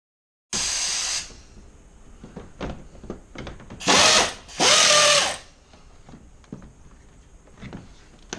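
A power tool backs T30 Torx screws out of plastic underbody panels on a 2016 Ford Focus RS, giving one short burst, then two longer whirring runs, with faint clicks and handling noises in between.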